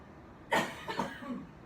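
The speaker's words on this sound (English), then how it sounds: "I'm sorry for your cough" A single cough bursts out near the listener, followed by a couple of smaller trailing coughs, with no talking.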